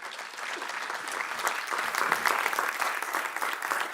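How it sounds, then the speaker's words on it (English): Warm, sustained applause from an audience at an academic year opening ceremony follows a speech, a dense patter of many hands clapping steadily and swelling slightly in the middle. "Give him another hand of applause"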